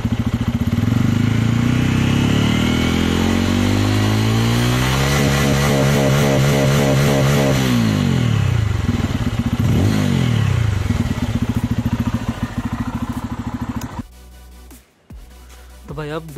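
A 2023 Bajaj Pulsar F250 motorcycle exhaust rumbles loudly, with rising and falling revs sweeping through the middle before the engine note cuts off abruptly near the end.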